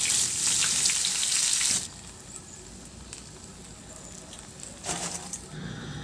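Bangus (milkfish) frying in oil in a pan: a loud, bright crackling sizzle that drops abruptly to a softer, steadier hiss with scattered pops and a brief swell near the end.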